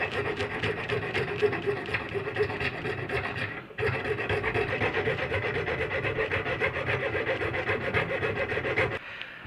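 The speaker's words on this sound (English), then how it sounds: "I'm just going to hog off a whole bunch of it with my nut and saddle files in the vise" Nut and saddle files rasp back and forth across a cracked acoustic guitar bridge piece held in a vise, a steady close scraping with a brief pause midway.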